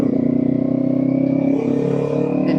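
Kawasaki Ninja 500 motorcycle engine droning loud and close at speed in traffic, a steady buzzing tone whose pitch shifts slightly partway through.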